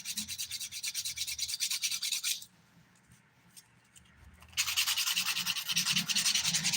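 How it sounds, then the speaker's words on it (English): A fingernail being shaped with a nail file during a dip powder manicure, with close, brisk rubbing strokes that stop for a couple of seconds and then resume louder, with no one speaking. "This is the nail I said was going to need a light filing"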